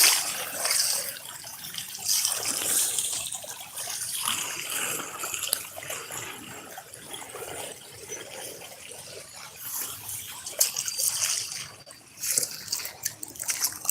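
Rushing floodwater near a farm field pours and splashes continuously, a broad fluctuating wash with occasional louder surges, heard up close with no talking.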